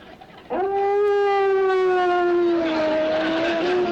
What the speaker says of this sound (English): Listen to old Duke's siren howl.